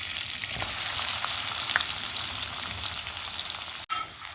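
Capsicum and asafoetida sizzle in hot oil for a sabzi, a steady broadband frying hiss that swells after a half-second start and holds close and loud, broken near the end by a brief dropout.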